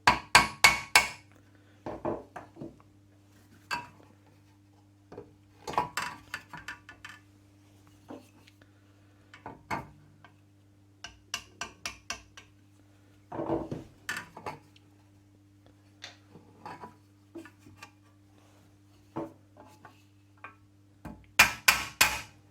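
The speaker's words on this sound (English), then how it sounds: "It does need a hammer." Sharp metallic hammer taps on an Atkins saw being restored, landing in separate clusters of two to four strikes spread across the clip, close and distinct over a steady low hum.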